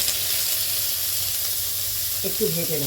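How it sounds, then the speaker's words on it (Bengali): Mustard flowers frying in ghee in a pan give a steady, close sizzle and hiss throughout, with a brief stir or scrape near the end and no talking. "আর এই ঘিয়ের মধ্যে এই সর্ষে ফুলটা আগে একটু ভেজে নেব"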